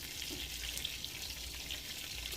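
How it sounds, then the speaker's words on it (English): Food sizzles and crackles in a frying pan as the last batch of homemade comfort food is lifted out, a soft continuous hiss with scattered pops, fairly quiet and steady throughout. "I'm pulling the last batch out of the pan"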